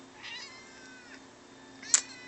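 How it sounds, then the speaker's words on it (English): A cat meows indoors near shrimp tanks, a drawn-out plaintive meow followed by a sharper, louder cry, moderately close. "Be quiet, cat."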